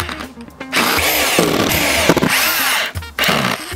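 Power drill driving 4x45mm screws into the roof trims of a wooden log store, a loud whirring burst that runs almost without break for about two seconds, then a short pause and another short drive.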